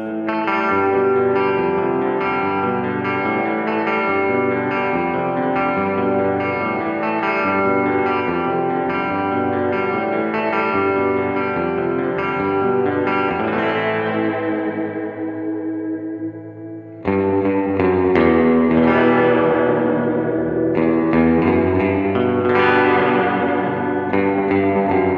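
Squier Jaguar electric guitar played through effects with chorus, echo and some distortion, producing a dense shimmering wash of notes that pauses briefly around the middle and then resumes, loud and with no talking.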